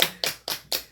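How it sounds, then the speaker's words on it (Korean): Four crisp claps land at an even pace in about a second, close and fairly loud, like one burst of applause from a church congregation. "하나님께 영광의 박수 올려드립시다."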